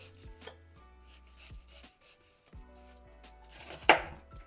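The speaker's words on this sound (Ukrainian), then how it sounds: "Ось так, нарізаю цибульку." A knife chops an onion on a cutting board in a series of quiet, fairly regular strokes, with one sharper, louder chop near the end.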